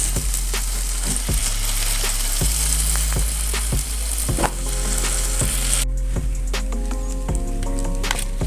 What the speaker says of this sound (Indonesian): Lanjut kita goreng sampai selesai ya bunda.